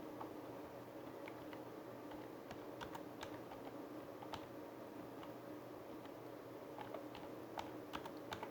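Quiet, steady typing of text on a computer keyboard: irregular clusters of light key clicks over a faint background hiss, close by, with no talking.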